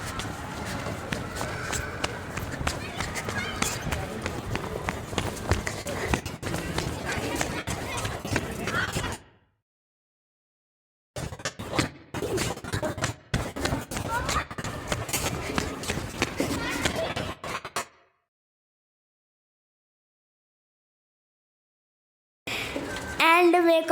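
Quick footsteps of a child running, bursts of pattering steps broken by gaps of silence, fairly close, with some faint voice in places.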